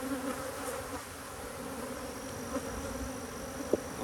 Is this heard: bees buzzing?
yes